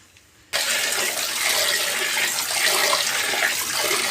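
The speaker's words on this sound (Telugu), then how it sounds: "ఇప్పుడు ఇవి రెండు మూడు సార్లు కడగాలి" Water gushes suddenly into a bowl of soaked grains being washed, a steady, fairly loud rushing splash that continues without pause and with no voices.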